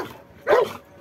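A guard dog lets out a single bark or yelp at a stranger, loud and close, in a brief burst that rises from a quiet background and fades quickly.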